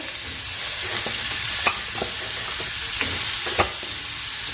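Cut potatoes frying in a home kitchen pan give a steady, even sizzle broken by a few faint stirring clicks and taps, with no talking.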